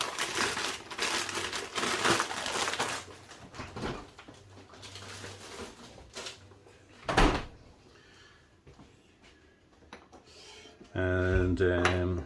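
A plastic bag holding plain flour taken from the fridge crinkles and rustles in bursts while chicken katsu curry is prepared in a home kitchen, with a knock midway and other kitchen noises near the end.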